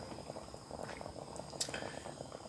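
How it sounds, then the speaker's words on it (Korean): Beef tendon and shank simmer in a pot of broth for shepherd's purse (naengi) shabu-shabu, giving a soft, steady bubbling with faint pops and a few brief clinks. "스지를 넣고 한 10분 정도 끓이겠습니다"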